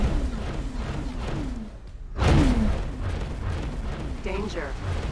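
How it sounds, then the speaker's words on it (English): A deep boom erupts midway through a space salvage game as a derelict ship blows apart, a loud rumbling burst rising over a continuous mechanical hum, with someone talking before and after. "Explosion. Yeah, there we go."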